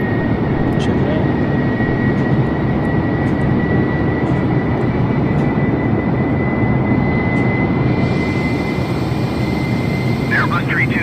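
Airbus A320neo jet engines in a flight simulator game, flying from Salt Lake City to San Diego: a loud, steady, even cruise roar with a faint constant tone, under occasional talk.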